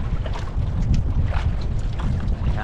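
Strong wind buffets a small boat out at sea, a continuous rumbling roar of gusts against the microphone with rushing water noise, steady and close throughout.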